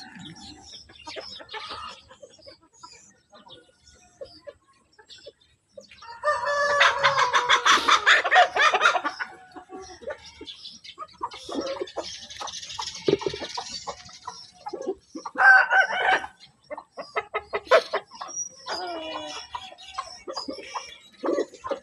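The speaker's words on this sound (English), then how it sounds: "That's the cockerel down there with one eye." A one-eyed cockerel crows and clucks repeatedly, with loud bursts around the middle and scattered calls from other fowl in between, fairly close and with no talking.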